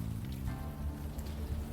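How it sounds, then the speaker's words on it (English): Rain falls steadily in the video game Unavowed outside an abandoned building at night, a soft, even patter of drops on surfaces under a low ambient hum, with no voices. "Still raining."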